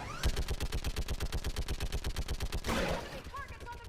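A mounted gun in Mass Effect 3 fires a long, rapid, evenly spaced burst of heavy shots, loud and close, ending in a rushing blast, with a voice speaking briefly beneath.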